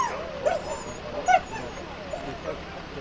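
Racing sled dogs at a sprint race whimper, yip and let out short barks in a few brief bursts, moderately close, under a voice talking over steady outdoor background noise.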